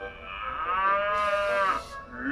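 A cow gives a single long, clear moo that holds steady and then trails off, close and alone, within a story told by a small humanoid robot.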